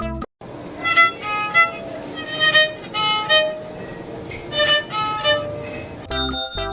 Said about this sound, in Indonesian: Alat musik gesek berdawai dua ini merupakan hasil akulturasi budaya Tionghoa yang dibawa ke Betawi